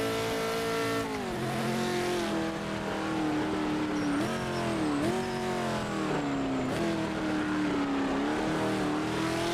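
A 1967 Ford GT40 racing in the Project Motor Racing video game on PS5, its engine note loud and continuous, rising and dropping through repeated revs and gear shifts, with no talking.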